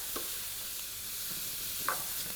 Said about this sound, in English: Nice sizzling sound.